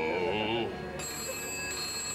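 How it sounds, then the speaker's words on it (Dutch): A telephone rings in a Dutch comedy sketch, its bright, steady electronic tone running close and clear through the second half after a brief stretch of voice at the start. "Mien, pak nou die telefoon eens een keer aan. Je hoort hem toch gaan?"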